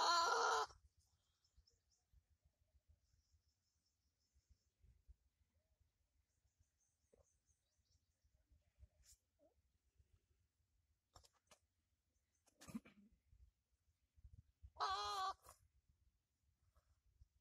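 A goat bleats in short loud bursts, one at the start and another near the end, with a fainter cry in between, separated by long near-silent gaps with faint ticking.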